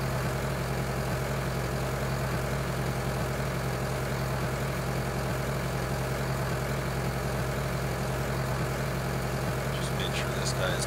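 A tractor engine idles at a steady, continuous low rumble on a farm field in Vojvodina, Serbia, with no change in pitch, and faint high chirps near the end.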